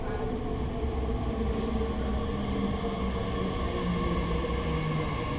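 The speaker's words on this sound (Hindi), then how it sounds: "अब ट्रेन आ रही है जी।" Train pulling into a busy metro or railway station at midday, a steady loud rolling rumble with metallic wheel squeal and faint high screeches running throughout, no talk.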